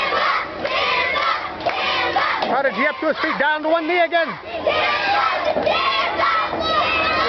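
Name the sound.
wrestling crowd cheering behind Kimba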